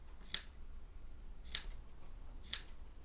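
Hair scissors snip fly-tying material three times at steady, roughly one-second intervals, each cut a short, crisp, close click over a quiet background.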